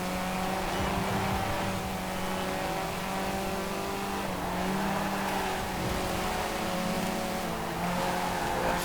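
Hot hatch race cars, an Escort among them, roar in a Forza Horizon 4 championship race. A loud, continuous engine drone holds throughout with shifting pitch, and any tire squeal is faint.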